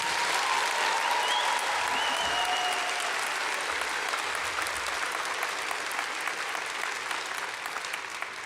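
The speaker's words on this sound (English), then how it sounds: "So can I hear one more uproarious round of applause of congratulations and thanks?" A convocation audience at a university graduation ceremony breaks into a long, dense round of applause, steady and sustained across the whole stretch with faint crowd murmur underneath, easing slightly toward the end.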